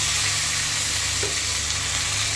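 Onions fry in a pan in a home kitchen, giving a steady, loud sizzle with a constant crackling hiss and no talk over it.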